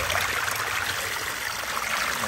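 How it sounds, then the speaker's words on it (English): Water flows back out of a three-barrel filter system during end-of-season cleaning, a steady loud rushing stream with a constant trickling wash and no pauses, close by and without talk. "Water coming back out."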